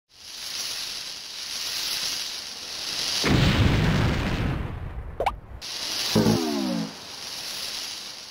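A steady fuse hiss breaks into a loud, rumbling video game bomb explosion, followed by a sharp pop and a second burst, then the hiss resumes.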